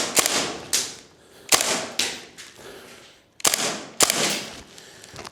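A WellPro AK12 airsoft gas blowback rifle fires in short bursts. Each burst is a crisp clattering snap with a hissing tail, and the bursts are spaced by pauses and heard up close.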